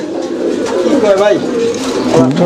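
Pigeons coo close by in soft, throaty, warbling calls, a few rising and falling phrases, with a voice talking underneath.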